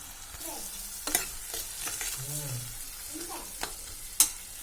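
Vegetables, spices, mint and coriander are being stirred and sautéed in a pan for vegetable pulao, with a low, steady sizzle and scraping stirs throughout and a couple of sharp utensil clinks.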